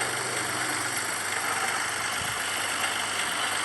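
A motorcycle engine idles steadily and close by, a continuous broadband hum with a low throbbing drone and no speech over it.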